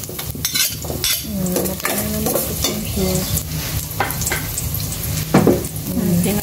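Garlic frying in a pan alongside rice, a steady sizzle with metal utensils scraping and clinking against the pan throughout, close and fairly loud.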